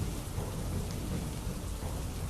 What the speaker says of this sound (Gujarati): માંગરોળમાં પણ ગાજવીજ સાથે વરસાદ વરસ્યો છે